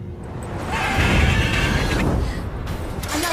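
A mare whinnies in The Witcher 3, a loud, high, wavering neigh rising over a rumbling, crowded game soundscape with a whoosh near the end.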